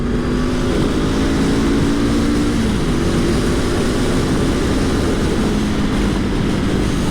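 Honda CL500 motorcycle engine droning loudly and continuously while riding, with a steady low hum and shifting pitch as it downshifts from fourth to third gear, wind noise throughout.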